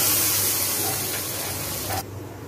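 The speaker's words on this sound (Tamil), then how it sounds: "அடுத்து தேவையான அளவு தண்ணி சேர்க்குறோம்." Water poured into a large pot of chicken kurma with potatoes, a steady close rushing splash for about two seconds that cuts off abruptly, leaving a quiet background hum.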